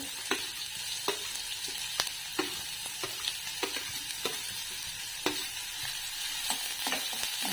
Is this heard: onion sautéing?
yes